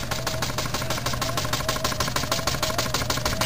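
A Jensen 85 toy steam engine runs steadily while driving a larger pulley, giving a loud, fast, even mechanical chuffing and clatter that repeats rapidly throughout, close up with no talking.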